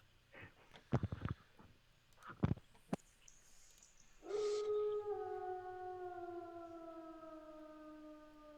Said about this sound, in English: You hear Laura, direwolves in the distance